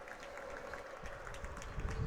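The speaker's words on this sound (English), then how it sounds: "she gets some applause here from her teammates" Teammates clap for their pitcher during a softball game, light scattered applause heard at a distance against outdoor background noise, with some low rumbling near the end.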